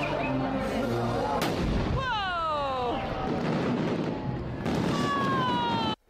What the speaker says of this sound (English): It's one firework with like 100 normal rockets inside it.